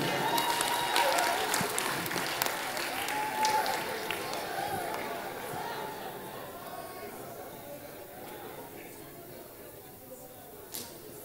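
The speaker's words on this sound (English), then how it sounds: "Clap for him." An audience in a church breaks into loud applause that gradually fades over several seconds, mixed with chatter and voices.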